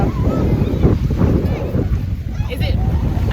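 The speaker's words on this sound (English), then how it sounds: "It's quite windy today" Strong wind buffets the microphone on a beach in Lombok, a heavy, rumbling low roar with gusty swells, surf faintly underneath and voices talking briefly through it.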